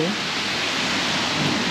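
Rain falls in Singapore during a storm, a dense, steady hiss of downpour that fills the whole moment at an even, fairly loud level, with a brief voice near the start.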